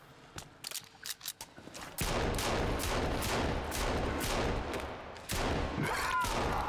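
Rapid gunfire from the Sons Of The Forest video game, a few scattered shots at first, then a long sustained fusillade of loud, dense automatic fire with a brief gap before it resumes.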